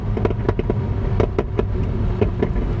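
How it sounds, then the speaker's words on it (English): Exhaust of a McLaren 750S Spider in sport transmission mode pops and crackles in a rapid irregular series of sharp bangs over a low engine rumble. "You can really hear those pops and crackles."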